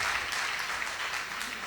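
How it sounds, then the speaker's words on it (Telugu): Steady applause from a worship congregation at a gospel prayer fellowship in Nellore, dense and even, sustained for a couple of seconds with no speech over it. "చప్పట్లు కొట్టండి, ఇప్పుడు కొట్టండి."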